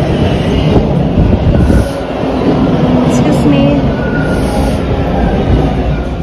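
A Toronto subway train near Kennedy station rumbles loudly and steadily close by, the roar filling the space while a person briefly speaks over it.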